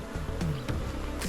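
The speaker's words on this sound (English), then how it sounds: "Nice amount of bees." Honey bees buzz steadily and close during an early July hive inspection in North Carolina, a dense droning hum that holds throughout with no talk.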